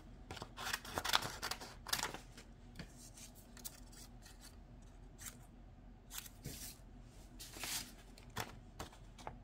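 Scissors cutting paper for art journaling, close crisp snipping strokes in quick irregular bursts, busier at first then sparser with soft paper rustling between cuts, no talk.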